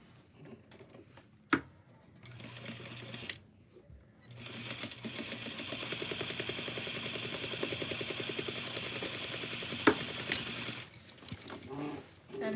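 A sewing machine stitches satin fabric with a dull needle in need of changing, running in a steady rapid mechanical patter for several seconds between short pauses, moderately close and faint, with no talk.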